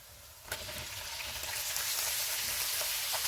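Ground beef sizzles steadily in a hot pan, a loud hissing fry that builds slightly, with an occasional scrape of stirring.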